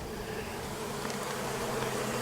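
Honey bees buzz steadily around an open hive during an inspection, a dense continuous hum, close and moderately loud, with no voices.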